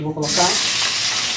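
Shrimp drop into hot olive oil in a pan at home, setting off a loud, steady sizzle of frying that takes over right after a brief spoken phrase and continues to the end.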